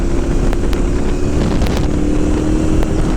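A KTM 990 Adventure S motorcycle accelerating hard through the gears, its engine a loud, steady roar with a constant drone, buffeted throughout by heavy wind rush across the microphone.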